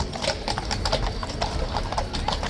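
A troop of dapple grey King's Guard horses clip-clops past at Horse Guards, many overlapping hoofbeats on hard ground, close and steady, with crowd murmur underneath.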